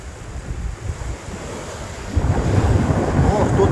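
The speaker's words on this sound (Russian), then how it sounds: "Вообще ветер ледяной." Icy winter wind by the sea, with buffeting gusts on the microphone and waves surging onto the shore, growing louder partway through; no one speaks.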